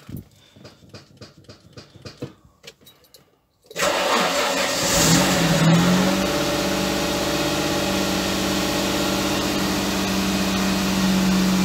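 A youngtimer car's engine cranks with rhythmic starter chugs, catches with a loud roar, then holds a steady, high cold idle around 2000 rpm, close by and with no talking.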